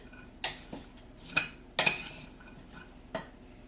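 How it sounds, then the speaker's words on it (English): Vegetable soup being stirred in a crock pot, a handful of separate clinks and scrapes of a utensil against the pot at irregular intervals, close and fairly quiet with no talk. "Give it a little stir around."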